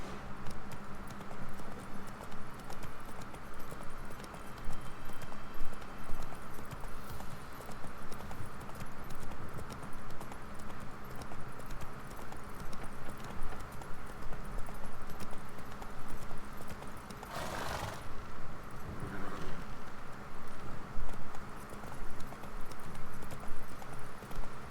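Horse trotting in The Witcher 3 video game, with steady, continuous clip-clop hoofbeats over a dense layer of game ambience.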